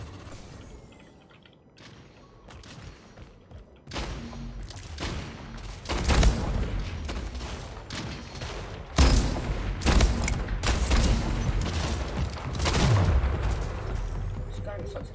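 Gunfire from the video game Splitgate rings out in loud, irregular bursts and booming volleys that grow denser after a quieter opening.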